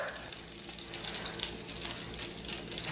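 Shrimp frying in hot oil, a steady loud sizzle and crackle that holds without pause, with occasional sharper pops, no voices.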